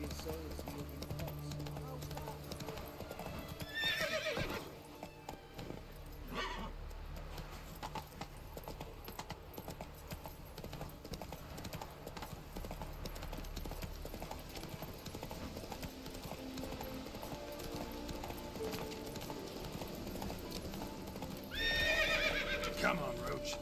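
A horse named Roach in a video game gallops with steady, rapid clip-clopping hooves and whinnies loudly twice, once early and once near the end, under a continuous game soundtrack.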